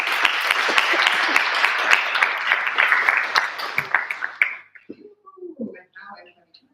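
A general assembly at a veterinary student symposium in Indonesia breaks into loud, dense applause that holds for several seconds before tapering into a few scattered claps and murmured voices.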